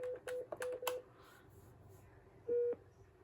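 Dialing an extension on a Cisco CP-7821 IP phone: five quick DTMF keypad tones in a rapid run, then after a pause one longer tone, close and clean over a faint background hiss.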